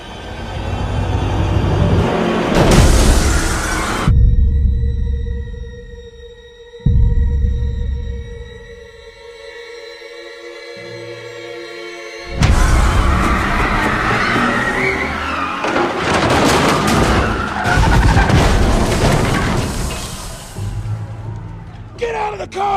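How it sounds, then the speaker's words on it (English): A car arrives fast and skids with screeching tires in loud bursts, cut in among tense tonal music stings, with a sharp rumble and hard-edged noise returning near the end. "Here comes the car!"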